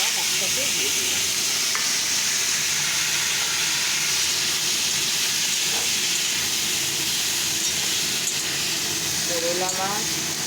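Fish, nigella seeds and onion stalks fry together in a pan with a continuous loud sizzle and hiss, punctuated by occasional stirring clinks, close by.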